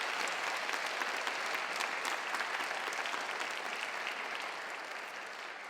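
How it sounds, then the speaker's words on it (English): A school awards ceremony audience gives international students a sustained round of applause, dense steady clapping filling the hall and fading slightly toward the end. "Can we all give them again a final round of applause?"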